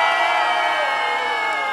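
A crowd at a rap battle final cheers, whoops and shouts loudly and continuously, a dense near roar of many voices with no pause.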